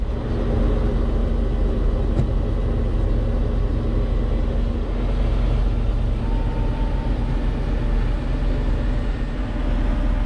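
A 1995 Kodiak truck idles steadily with its PTO engaged to drive a 57-foot National Crane, giving a continuous low diesel rumble that stays even and close throughout, with no talking.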